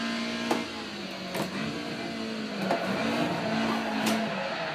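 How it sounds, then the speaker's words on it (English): A Toyota AE86 drifting through the Nürburgring Karussell in a racing sim, its engine droning steadily while tires squeal in long sustained stretches with a few sharper bursts, close and continuous with no talking. "let's see if I can try to drift the carousel like I did in real life"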